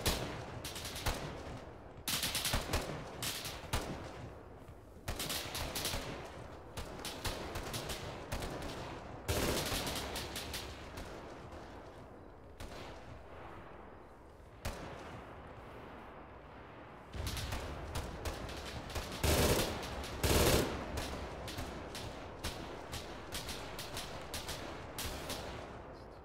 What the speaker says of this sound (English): Shots west.